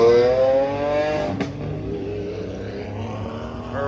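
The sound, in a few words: Lamborghini Aventador S engine revving at a car show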